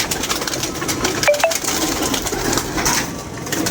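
Released pigeons around a loft, with soft wing flutters and faint cooing over a steady outdoor noise bed, plus a couple of brief bright clinks, moderately close, no speech.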